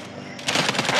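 Automatic gunfire in the video game Predator: Hunting Grounds erupts midway as a quick burst of several rapid shots after a quieter start, with a voice faintly present.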